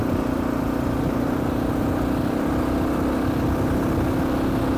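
Steady engine drone from a five-speed Kawasaki KLR motorcycle while riding, a constant hum with wind rush, loud and unbroken with no talking.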